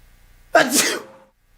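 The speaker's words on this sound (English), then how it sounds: "I think I gotta sneeze, though." A single loud sneeze bursts out close up after a brief quiet intake, then fades to silence.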